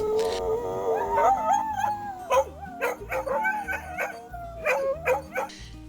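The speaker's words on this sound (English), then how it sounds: "It's like he has a howling buddy now, so they get out there and howl." Two dogs howl together outdoors, long rising and falling wails overlapping with short yips and whimpers, fairly close and loud, carrying through the whole stretch with brief gaps.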